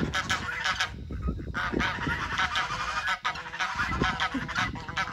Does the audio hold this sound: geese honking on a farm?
yes